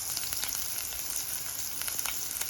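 Garlic sizzles and crackles steadily in a hot pan, a dense, even frying hiss with small pops, close and fairly quiet, with no talking.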